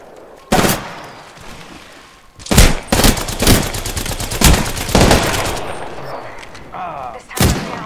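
Video game gunfire in Apex Legends: loud, sharp bursts of rapid shots with booming impacts, a burst at the start and then dense clusters of firing, with faint talk underneath.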